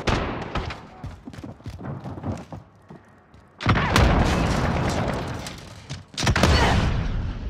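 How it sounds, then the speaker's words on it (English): A grenade blast in the shooter game Call of Duty: Modern Warfare erupts as a loud, broad boom that sustains for a few seconds, following quieter scattered gunfire and thuds, with another heavy burst near the end. "Throwing grenade! Grenade out!"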